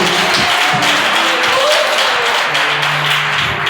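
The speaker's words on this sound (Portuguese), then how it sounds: "Pode dar uma palma boa para Jesus." Enthusiastic clapping from a church congregation praising Jesus, loud and sustained with a dense, rhythmic patter. Voices cheer and call out beneath it.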